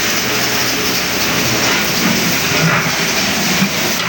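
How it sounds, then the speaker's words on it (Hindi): Ginger, garlic and green chilli paste sizzles hard in a pan of fried onions for aloo chana pulao, a loud, steady, close hiss that runs without a break and has no voices over it. "यहाँ पे दोस्तों शामिल कर देंगे अदरक लहसुन सब्ज़ मिर्च का पेस्ट।"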